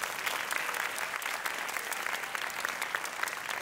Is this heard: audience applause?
yes